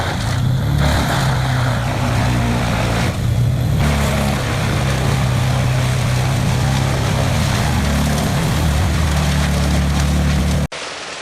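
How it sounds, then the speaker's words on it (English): A Vermeer BC 2100XL wood chipper's engine roaring at steady high power, loud and close, with a deep constant drone that runs unbroken until a sudden cut near the end. "The engine roars to life, signaling that the high-powered wood chipper is ready for action."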